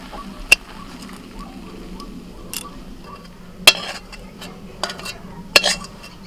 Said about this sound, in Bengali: নাড়াচাড়া করতে করতে আর একটু ঘন করে নেব।